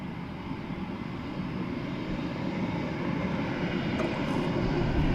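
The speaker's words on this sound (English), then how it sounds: "So Aer Lingus, I would imagine it's going to taxi here on Sierra 5." An Aer Lingus airliner taxis at Dublin Airport, its engines giving a steady broad roar that swells gradually louder as it draws nearer, with no voices over it.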